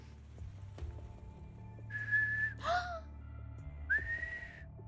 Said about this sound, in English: It's so close to an actual whistle